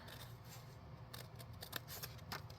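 Scissors cut along the edge of paper for a junk journal, a close series of crisp, quiet snips over faint room noise.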